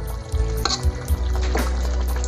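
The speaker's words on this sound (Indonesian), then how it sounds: "Ya, kita aduk lagi ya." A spoon stirs beef liver stew simmering in coconut milk in a pan, giving a steady close sizzle and bubbling with a few scraping knocks against the pan, with no talking.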